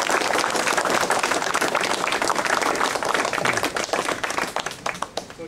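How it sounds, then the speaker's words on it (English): An audience applauding for the boys at a bunker dedication ceremony, dense sustained clapping from a crowd that thins out and fades toward the end. "I think boys deserve another round of applause"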